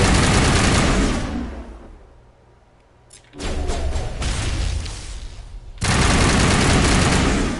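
Sniper and other gunfire in Mass Effect Legendary Edition: loud, sustained volleys roar close by, drop away to a quiet lull for a couple of seconds, then return as heavy continuous shooting.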